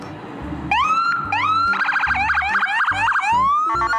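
Toy ambulance siren, loud and close, with electronic rising wails that give way to rapid warbling yelps and a final stuttering burst, accompanied by low rhythmic thumps.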